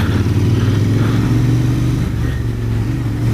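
A Royal Enfield Interceptor 650 motorcycle engine runs steadily and loud on back roads, a low, throbbing twin-cylinder drone with slight shifts in engine speed, close and continuous with no talk.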